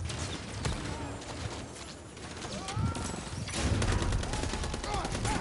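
Gunfire aimed at a helicopter in Call of Duty MW3, dense rapid rifle shots crackling through a busy battle mix with rumbling low engine noise, growing heavier and louder in the second half.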